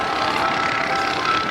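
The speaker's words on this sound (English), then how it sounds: "Listen to the engine." The engine of a low-powered stunt airplane performing aerobatics at a 2008 naval air station airshow, heard as a steady, somewhat distant drone that holds even throughout with no talk over it.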